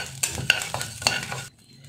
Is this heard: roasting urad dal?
yes